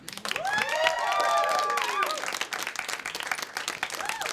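An audience claps and cheers under loud whoops and playful shouts, the clapping continuing as the shouting fades and the applause thins into scattered claps.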